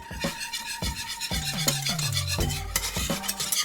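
A spoon scrapes and clinks around a saucepan of lemon tart cream over medium heat in steady strokes, with a faint sizzle from the pot underneath.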